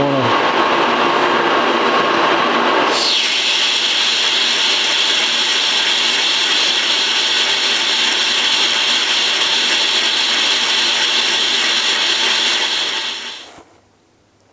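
A metal planer machine taking a 1 millimetre cut makes a loud, continuous grinding whir that starts abruptly after a rougher opening, then holds steady and fades out at the end.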